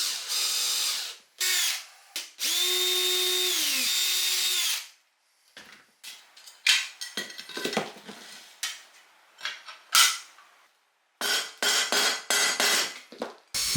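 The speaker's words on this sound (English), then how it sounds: "So now I'm prepping the aluminum base plates to drill mounting holes into." A power drill bores mounting holes through clamped-together aluminum base plates, giving several high-pitched whining bursts of drilling, then scattered clinks and scrapes of metal handling, all close by with no voices.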